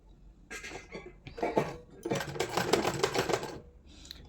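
A sewing machine stitching a blouse in short bursts of rapid mechanical chatter, first a few brief runs, then a longer steady run close up, with small pauses between.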